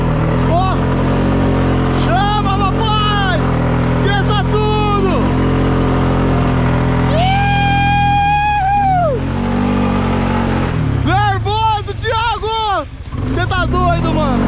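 Several rising and falling revs from a quad bike engine during stunts, some close and loud, with excited voices talking and shouting throughout.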